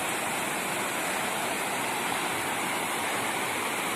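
A river rushes steadily beneath a huge flyover bridge in Andorra, a dense, continuous wash of flowing water that stays loud and even throughout with no voices.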